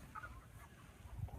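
Chickens at a fair give a few soft, scattered clucks against a quiet background, faint and brief with no voices over them.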